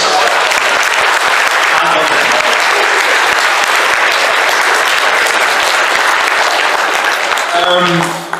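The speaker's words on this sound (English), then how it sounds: "Just give them a round of applause." Loud, sustained applause from a large convention audience fills the space for several seconds, dense and steady before tapering off at the very end.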